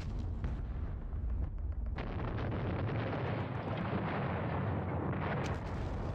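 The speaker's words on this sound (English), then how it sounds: "Taking some artillery hits here." Artillery shells land in a continuous, heavy barrage in the WWII strategy game Panzer Battles, set in Normandy. A dense, rumbling roar of overlapping blasts holds steady and loud for about six seconds, with sharper impacts standing out near the start.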